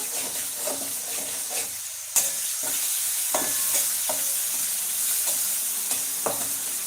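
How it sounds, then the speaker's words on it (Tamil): Elephant foot yam pieces are stirred as they sauté in an oiled pan with salt, giving a steady sizzle and hiss broken by sharp scraping clacks of the spoon against the pan. "வதங்குறதுக்கு எல்லாத்தையுமே கிளறி விட்டுலாம்"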